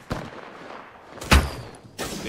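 Gunfire in a battle royale video game: a few sharp, separated shots, one louder and closer than the others, against low background noise with no talking.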